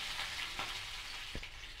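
Green chilies and urad dal fry in hot oil for a raw banana dal kootu, giving a steady close sizzle broken by two short stirring scrapes.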